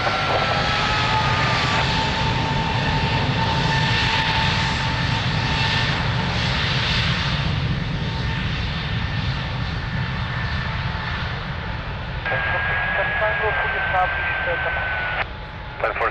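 An aircraft takes off from runway 02 at Lisbon Airport, its engines making a loud, sustained roar with a whining tone that holds steady and slowly recedes, while radio chatter runs underneath.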